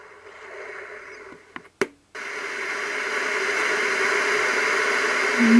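Sea-sound setting on a Medisana WL444 wake-up light: a steady, hissy wash like white noise that stops after a brief click and a gap, then resumes and swells gradually louder, with no clear wave rhythm.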